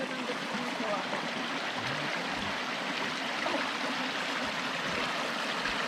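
A small mountain stream runs and babbles steadily close by while a hand dips into it, with faint low voices underneath the continuous water.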